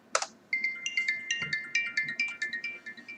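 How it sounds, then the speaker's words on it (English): A phone ringtone for an incoming call plays loud and close, starting with a sharp tone, then a quick repeating melodic pattern of bright electronic notes with no talk over it. "I got a phone call."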